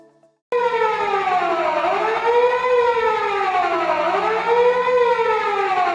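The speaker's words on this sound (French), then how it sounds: "l'alarme d'évacuation se déclenche, sirène intermittente forte" A factory evacuation alarm siren wails loudly and steadily, its pitch rising and falling in slow sweeps after a brief quiet start, with no voices over it.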